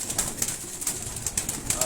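Kasuri and Sialkoti high-flying pigeons give faint, soft coos and flutters in a loft, with brief repeated sounds and low background murmur.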